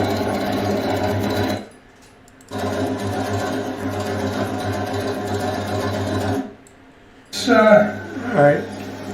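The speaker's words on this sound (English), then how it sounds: "This is a embroidery only big machine." Large embroidery-only machine (VE 2200) stitching underlay, a loud close rapid mechanical whir in two long runs separated by pauses, with a person speaking briefly at the end.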